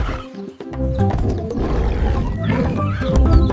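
A dinosaur gives a deep, rumbling roar: a loud, sustained growl lasting a few seconds, swelling again toward the end.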